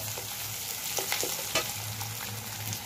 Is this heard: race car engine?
no